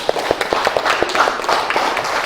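Audience in a school discussion session clapping hands, a brisk flurry of individual claps with distinct sharp hits over a continuous patter, fairly close and loud.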